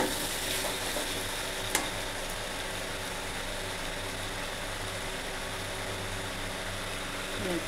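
Spices sautéing in a pan for a Bengali pumpkin and shrimp dish with greens, a steady close sizzle with stirring and one sharp utensil knock, no talking.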